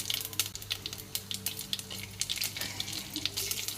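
Mustard seeds, urad dal, cumin, fenugreek and two dried chillies sizzle in hot oil for a South Indian keerai dish, giving close, crackling pops over a steady fry.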